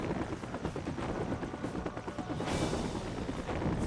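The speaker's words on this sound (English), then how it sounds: "So we're running from a helicopter." Helicopter in the video game Batman: Vengeance, a continuous rotor whir and drone that holds for about four seconds and stays fairly steady at moderate loudness, with no voices.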